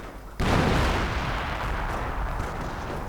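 Artillery rounds slam into a machine gun team in a World War II strategy game, opening with a sudden heavy blast after a quiet moment, then sustained rumbling explosions and crackling fire.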